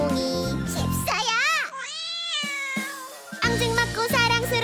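A cat meows within a cheerful Korean children's song about a cat, a drawn-out, bending meow rising over bright sung melody and backing music.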